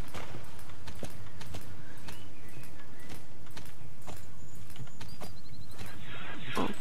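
Horse hooves beating over grass in Star Stable, a steady rhythmic clip-clop under ambient game music with a few faint chimes toward the end.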